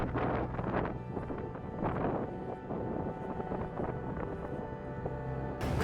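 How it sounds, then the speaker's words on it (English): Strong wind buffets a microphone outdoors on a morning among rocks and pine trees in West Virginia fall foliage, a constant roaring rush with gusty swells and no voices. "Very windy, as you can tell out here this morning"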